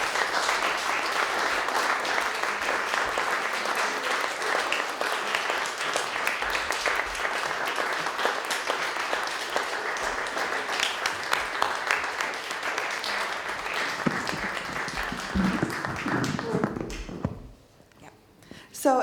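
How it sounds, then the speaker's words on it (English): Audience applause after a poetry reading, dense sustained clapping that fades out near the end. "So if we could just get another round of applause, first for Rena for coordinating all of this"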